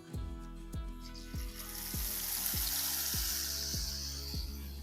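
Onions sizzle and crackle as they deep-fry in hot oil with a steady bright hiss, while a low rhythmic thumping repeats underneath about every half second.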